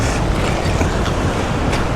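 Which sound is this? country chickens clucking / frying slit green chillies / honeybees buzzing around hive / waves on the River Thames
waves on the River Thames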